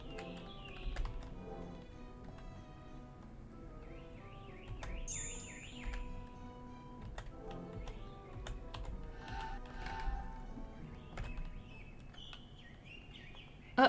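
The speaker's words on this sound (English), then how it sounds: "Oh, that was just birds." Birds singing in a video game, with scattered bright chirps and trilling calls over a faint backdrop of ambient music and light tapping, fairly quiet and close.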